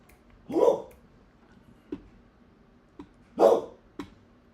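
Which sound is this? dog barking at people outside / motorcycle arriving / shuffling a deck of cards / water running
dog barking at people outside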